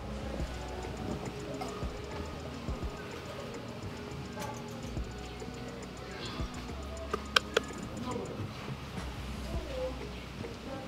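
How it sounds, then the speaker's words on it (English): Egusi melon seeds are pounded in a mortar while cooking native food in Togo, making soft repeated thuds and ticks with a few sharper knocks, under a busy outdoor background and voices nearby. "So we are pounding the egusi"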